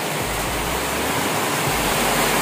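Rain pours steadily outdoors as a loud, dense, continuous hiss, with a low rumble underneath and no voices.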